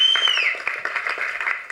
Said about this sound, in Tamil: ஸோ இயக்குனருக்கும் உங்களுடைய மிகப்பெரிய ஒரு கைத்தட்டலை கொடுத்துருங்க